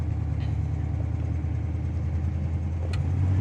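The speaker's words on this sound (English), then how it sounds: "Sitting here at the stop sign, fires up nice and idles and runs really smoothly." A 1954 Mercury Sun Valley idles at a stop sign, its engine giving a smooth, steady low rumble throughout with no revving.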